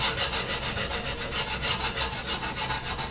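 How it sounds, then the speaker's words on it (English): A very fine cut file is draw-filed across a metal tool post, a steady run of rhythmic rasping strokes, close and fairly loud, with no voices. "This is a very, very fine cut file."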